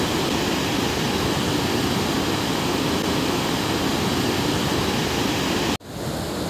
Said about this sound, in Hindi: यहाँ से आप देख पाएंगे पूरा का पूरा वाटरफॉल।